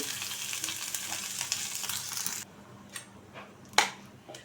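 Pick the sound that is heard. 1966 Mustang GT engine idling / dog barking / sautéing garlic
sautéing garlic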